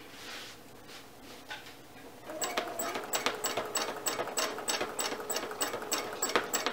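A sewing machine doing free motion quilting on a triangle twist pattern, running with a slightly off, funky tone, starts up after a quiet moment into a steady fast rhythmic ticking and clatter, close and moderately loud.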